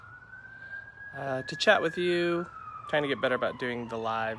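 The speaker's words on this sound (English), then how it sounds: "sorry for the siren" An emergency vehicle siren passes outside, heard as one long steady wail that rises and then slowly falls, faint and distant beneath someone talking close by.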